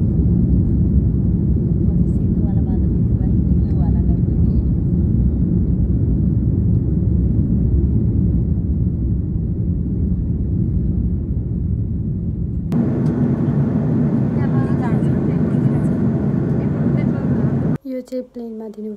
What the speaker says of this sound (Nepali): सबै कुरा गरेर प्लेनमा चढिसकेको छु